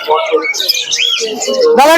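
Birds at the Krishnanagar bird market, where pigeons including Giribaz tumblers are sold, chirp and call steadily over about two seconds, mixed with market chatter and people talking nearby.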